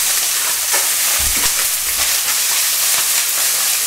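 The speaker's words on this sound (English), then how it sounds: "carry on with the stir fry, and then we can bring it all together" Sea bass and vegetables stir fry in a hot pan with loud, continuous sizzling and hiss close by, occasional stirring knocks underneath.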